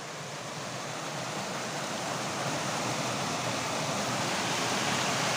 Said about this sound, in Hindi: ये देखो, ये है वाटरफॉल।